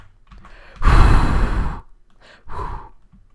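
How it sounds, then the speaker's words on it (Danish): A person blows a long breath of air onto an object for luck while playing Danish Minecraft, one strong close blow followed after a pause by a second, shorter puff. "Skal vi lige puste på den?"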